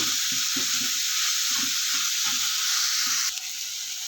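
Oil is added to a pan so the frying continues, giving a loud, close, continuous sizzle with a few soft stirring knocks underneath throughout.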